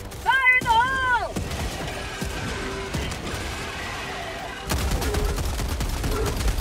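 Heavy autocannon fire in the game Helldivers 2, with a few loud booming shots near the start, then a dense, continuous wash of battle noise and explosions that surges again toward the end, while a voice speaks briefly early on.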